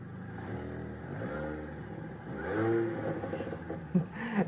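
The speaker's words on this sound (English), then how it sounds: "I love that supercharger sound." A supercharged R53 Mini Cooper S engine revs up and settles with a whining, supercharged tone, rough idle clatter between the pulls of the throttle.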